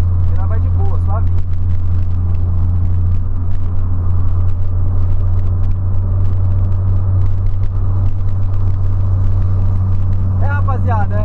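A 2008 Volkswagen Polo sedan cruises on a highway, heard from inside as a loud, steady low engine and road rumble, with faint chirping sounds near the start and end.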